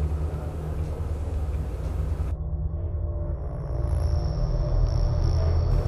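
A train rumbling past in the Ghost Rider video game, a steady low roar that holds loud throughout and swells slightly toward the end, with no voices over it.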